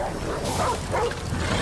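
A dog companion in the video game Remnant: From the Ashes gives a few short yipping barks and whimpers over a steady game background.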